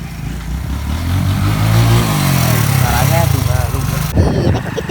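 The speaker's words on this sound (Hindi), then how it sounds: "वो बाइक चला रहा है" A motorcycle being ridden on a cold, foggy day, its engine droning and rising in pitch under wind noise, close and loud, with people talking over it.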